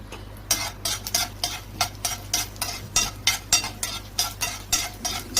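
Urad dal roasts in about three spoons of oil in a pan while a spoon stirs it, giving regular scraping strokes roughly twice a second over a faint sizzle, close and clear with no voices.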